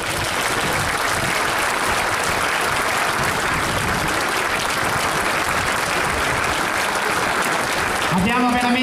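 A crowd at an Arma Aeronautica parade in Jesolo applauds steadily, a dense, sustained wash of clapping that continues without pause, with a voice coming in at the very end.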